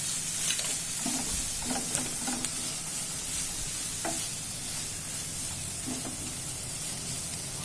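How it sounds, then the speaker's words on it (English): Dim sum filling of vegetables and chicken seasoned with soy sauce being stirred in a pan, soft scraping strokes over a low sizzle and hiss, fairly quiet with no voices. "Now I can give it a stir."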